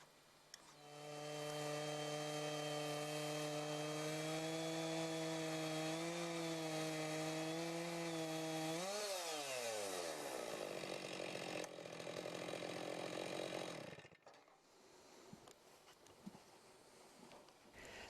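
A Logosol Big Mill chainsaw mill rips a slab from a log: a loud, steady engine whine under load holds for about nine seconds, then drops in pitch and keeps cutting, before cutting out to quieter rattling near the end.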